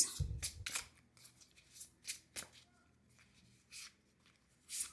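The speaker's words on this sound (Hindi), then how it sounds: "Let me pull out three cards for you." Tarot cards slide and shuffle as three are pulled from the deck, giving soft, close, scattered rustles and flicks with quiet pauses between them.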